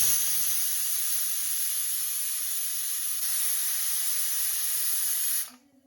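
A pressure cooker lets off a loud, sustained whistle and hiss of escaping steam that holds steady for several seconds and then cuts off abruptly, leaving near silence.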